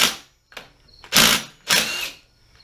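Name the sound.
impact driver removing nut on Pratt & Whitney lathe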